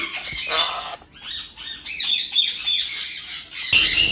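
A Rubino parrot packed for shipping squawks repeatedly, harsh shrill calls in quick irregular bursts, loud and close with brief gaps between.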